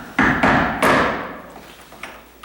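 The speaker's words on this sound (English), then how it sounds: "I'm just gonna set that right there over it, and I'm gonna hit that with my hammer" A hammer strikes a cheap screwdriver held against a door's metal strike plate, three sharp ringing metallic blows in quick succession followed by a fainter tap, close and alone.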